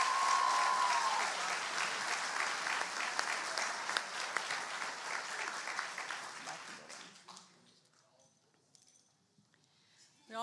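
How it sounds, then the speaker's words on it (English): Audience at a high school awards ceremony applauding, dense loud clapping that holds for about seven seconds and then fades away into near silence. "Let's give them another round of applause."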